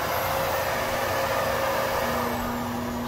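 Kenmore vacuum cleaner running on its hardwood floor setting, a steady loud motor whine and airflow roar with a faint tonal hum shifting partway through, no talking.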